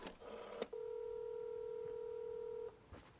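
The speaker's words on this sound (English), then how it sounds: "Just hit the 5 3 times, then go to 0, then go to 1, then go to 5, and then go to 2." A long steady telephone tone, held for about two seconds, sounds on the big in-game telephone in Fortnite, with brief clicks before and after it; fairly quiet.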